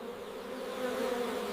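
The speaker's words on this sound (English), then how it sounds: "Bees or hand pollinators work early morning on dragon fruit blossoms." Bees work early-morning dragon fruit blossoms, a steady, close insect buzz holding one droning pitch throughout with no talk.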